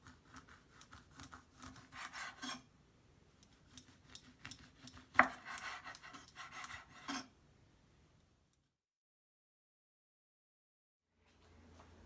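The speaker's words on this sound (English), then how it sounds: "zest of one mandarin." A mandarin being zested on a grater, heard as repeated close rasping strokes in quick bursts, with a sharp knock midway and a pause before faint sound returns near the end.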